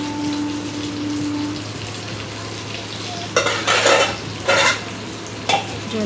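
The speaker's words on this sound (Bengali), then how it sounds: "জল দিয়ে ভালো করে নেড়ে নিয়ে" Vegetables simmering in a pan with added water hiss in a low, steady bubble, broken by three or four louder scraping stirs of a spoon against the pan near the end; no one speaks.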